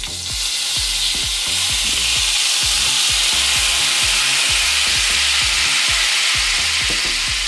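Lemon juice hits hot butter in a frying pan with trout meunière, making loud, steady sizzling and crackling with rhythmic stirring or scraping underneath, no talking.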